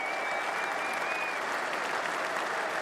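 At Lord's, 30,000 spectators give Jimmy Anderson a standing ovation during an England v West Indies Test match. The applause is a dense, steady roar of clapping from a large crowd, heard from a distance and unbroken throughout.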